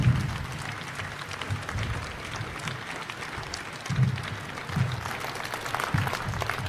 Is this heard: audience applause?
yes